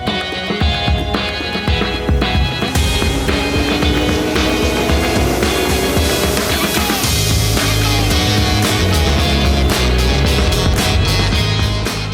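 Race cars at the Daytona race heard from the top of the grandstand, a continuous loud roar of engines as several cars sweep past in overlapping waves, with crowd noise underneath.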